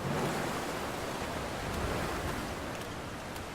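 A waterfall in The Long Dark roars as a steady, dense wash of broadband noise, loud and unbroken throughout with no voices over it.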